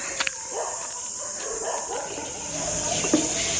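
Several dogs bark in short, scattered yips and woofs at a distance as a golden retriever passes on a morning walk, over a steady hiss of background noise.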